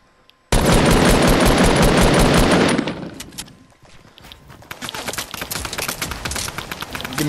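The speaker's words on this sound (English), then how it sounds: "I just got shot at." Rapid automatic gunfire erupts suddenly in Fortnite, a loud sustained burst of about two seconds, then quieter scattered shots and clatter continue afterward.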